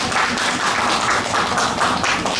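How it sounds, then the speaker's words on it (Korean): Applause from a Salvation Army church congregation welcoming visiting family members, a steady dense patter of many hands clapping, fairly loud and continuous with no voices over it. "박수로 환영하겠습니다"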